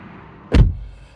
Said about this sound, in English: Really solid sounding door here.